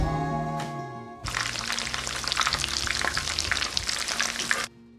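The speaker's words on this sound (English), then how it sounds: "Fry until golden brown and crispy on both sides." Chicken chutney kababs dropped into a hot oiled pan and frying, a loud steady crackling sizzle that starts abruptly after a brief clink and runs for over three seconds before cutting off.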